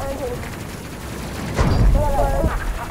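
Gunfire aimed at enemy fighters in a space-combat video game comes as a short, heavy burst mixed with a voice speaking over it.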